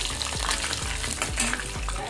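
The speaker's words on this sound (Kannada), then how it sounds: "ಮೊಸರು ಒಗ್ಗರಣೆಗೆ ಸ್ವಲ್ಪ ಜೀರಿಗೆನ ಹಾಕ್ತಾ ಇದ್ದೀನಿ" Cumin seeds crackle and sizzle in hot oil for a curd tempering, a steady dense frying hiss with soft stirring scrapes close by and no voices.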